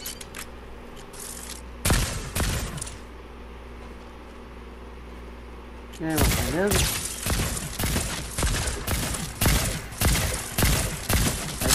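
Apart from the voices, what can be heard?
gunfire in Fortnite video game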